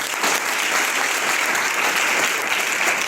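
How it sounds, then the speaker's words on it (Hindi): A room full of people at a school event claps for the children steadily, a dense, even wash of applause that continues at the same loudness throughout. "जोरदार ताली बजाएं बच्चों के लिए"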